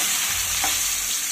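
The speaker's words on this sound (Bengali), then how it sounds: "এবার আমি মাছগুলো তেল থেকে তুলে নেব আর একইভাবে আমি বাকি মাছগুলোকেও ভেজে নেব।" Pabda fish frying in hot oil, a steady, loud, close hiss of sizzling with no voices, continuing evenly throughout.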